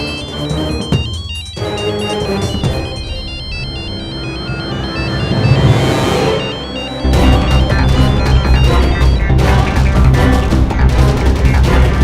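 A phone ringtone plays on and on with a repeating melodic pattern, growing fuller partway through, and nobody picks up.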